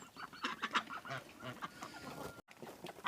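Poultry honk and gobble in rough, repeated calls nearby, with a short gap before the calling resumes.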